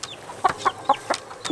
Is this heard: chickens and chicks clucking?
yes